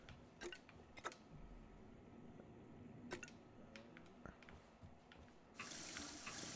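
A sink tap in the sci-fi game Prey, faint at first with scattered clicks and knocks, then water suddenly gushes in a steady hiss near the end.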